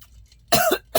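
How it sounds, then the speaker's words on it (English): Two loud, raspy coughs sound close to the microphone, the first drawn out and the second cut short, separated by a brief pause. "I have a little coughing fit."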